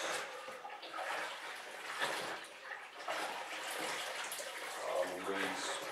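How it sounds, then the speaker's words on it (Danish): A mop plunged into warm soapy water in a living room, giving broadband watery sloshing and splashing throughout, with someone talking over it. "Døber man den ned i varmt vand."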